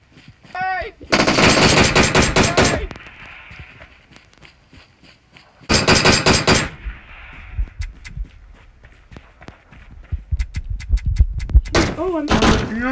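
PUBG gunfire rattles out in loud automatic bursts separated by pauses, with sharp single shots, thuds and footsteps between them.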